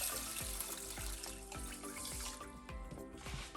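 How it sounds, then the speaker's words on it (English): Tap water pours steadily into a pot for porridge, a continuous splashing rush with a rising, bubbly tone as the vessel fills. "I'm going to add in about 500 milliliters of water, and I'm going to pour straight in."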